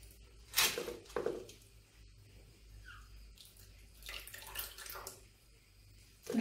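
Water drips and trickles from a sieve after washing, with a few close splashy drops and soft wet patters spread over a quiet background.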